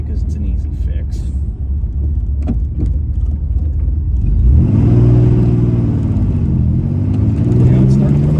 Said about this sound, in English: whenever I get on her, it misfires